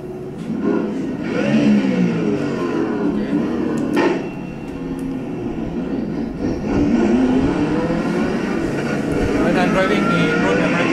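Race car engine revving and droning while driving at Road America in the iRacing VR sim racing game, rising and falling in pitch continuously alongside voice talking.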